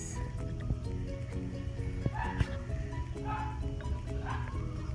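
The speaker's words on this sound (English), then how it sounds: "Ignore the stupid dog." A dog barks repeatedly in short, fairly close yips and woofs outdoors while eggs and sausages cook, the barks recurring irregularly over a steady background hum.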